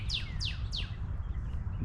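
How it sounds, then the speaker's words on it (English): Birds chirping along a nature walking trail, three quick, clear descending tweets in a row early on, followed by softer calls over steady outdoor background noise. "See, there's a lot of birds here."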